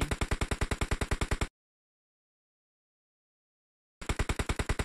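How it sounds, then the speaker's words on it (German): Rapid automatic gunfire in the mobile battle-royale game PUBG Mobile, two evenly spaced bursts of shots separated by a few seconds of silence, fairly faint. "dass die Schüsse immer noch weitergehört werden"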